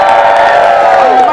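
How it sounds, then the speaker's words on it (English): A large crowd at the March for Europe rally cheers and whoops loudly and continuously, a dense, sustained roar of many voices close by. "Can I have a massive cheer for everyone who turned up?"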